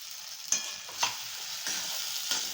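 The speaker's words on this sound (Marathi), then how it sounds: "त्याच्यातच आता ही टोमॅटो प्युरी घालते" Tomato puree sizzling in hot oil with red chili masala while cooking masala paneer, a steady frying hiss with a few sharp stirring scrapes at regular intervals, close and alone.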